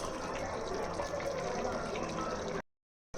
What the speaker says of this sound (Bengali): বলক চলে এসেছে